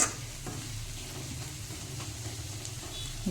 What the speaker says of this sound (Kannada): ಇದು ಒಂದು 5 ನಿಮಿಷ ಫ್ರೈ ಆಗಲಿ